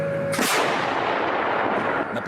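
A single eight-inch Pion artillery gun fires with a deep, booming blast that rolls out and echoes for about two seconds.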